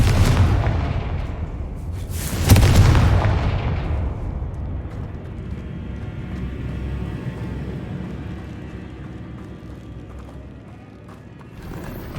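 Confringo fire-spell explosions in the game Hogwarts Legacy give a loud, heavy booming blast that rumbles and decays slowly, with low crackling debris lingering afterward.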